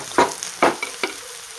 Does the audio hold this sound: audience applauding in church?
no